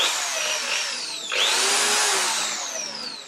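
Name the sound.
electric drill running, trigger pressed lightly then hard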